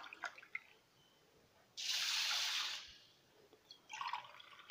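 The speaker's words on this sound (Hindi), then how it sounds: "वन एंड हाफ ग्लास जितना पानी डालेंगे और इसे 5 से 6 घंटे तक इसे भीगने देंगे" Water from a glass is poured over a bowl of fenugreek seeds for Indian methi dana sabzi: a short, close, splashy pour of about a second, with faint drips and small clinks before and after.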